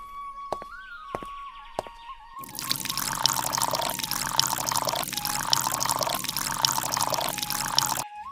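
Water pours steadily onto a plant for several seconds, a continuous splashing close by, preceded by a few soft taps and a faint tone.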